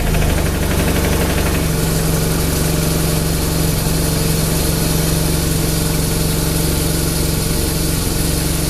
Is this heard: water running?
no